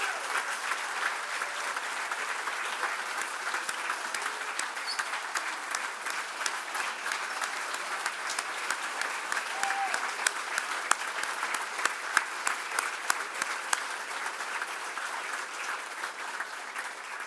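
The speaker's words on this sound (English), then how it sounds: "How about one last round of applause for what Charli said is the greatest Hall of Fame cast of ever" A large audience at a 2022 Sun Devil Athletics Hall of Fame ceremony applauds steadily for a long stretch, a dense wash of clapping with scattered sharper claps, even in level and free of speech.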